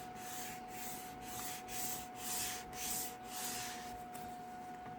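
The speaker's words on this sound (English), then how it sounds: "I'm using my whiteboard eraser." A whiteboard eraser rubs back and forth over stamped paper in steady, regular strokes, a soft close-up scratchy swish repeating about every half second, with a faint steady hum underneath.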